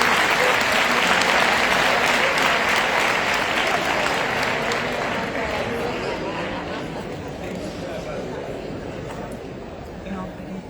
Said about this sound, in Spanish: Los aplaudimos.